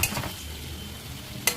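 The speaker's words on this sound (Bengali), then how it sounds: "এই দেখো বন্ধুরা, পকোড়াগুলো ভাজছি আমি।" Onion and gram flour pakoras fry in hot oil with a soft, steady sizzle, broken by a couple of quick utensil clinks at the start and end.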